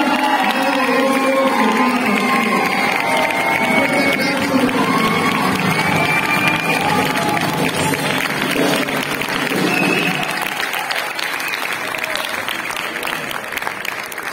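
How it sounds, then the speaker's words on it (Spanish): Concert audience at an orchestra performance in Xalapa bursts into dense, sustained applause with some cheering, filling the hall loudly before tapering slightly toward the end. "me gustaría que también le diéramos un fuerte aplauso a Eduardo Carlos Juárez"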